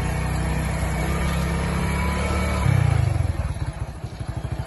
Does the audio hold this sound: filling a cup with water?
no